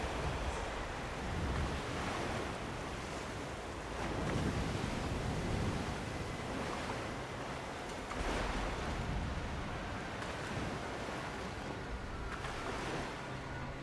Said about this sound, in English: Very windy, very rainy.